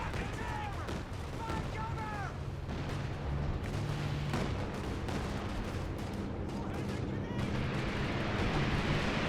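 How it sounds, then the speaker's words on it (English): A creeping artillery barrage in Company of Heroes 2 on Hill 400, with dense rumbling booms and gunfire crackling continuously, along with whistling shell sounds, under someone commentating. "Is he doing like a creeping barrage through mid?"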